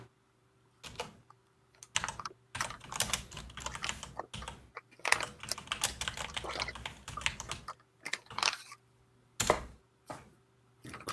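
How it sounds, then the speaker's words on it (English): Mechanical keyboard typing in fast bursts of sharp clicks and clacks, broken by short pauses, close and fairly loud with a faint steady hum underneath and no talking. "from my mechanical keyboard"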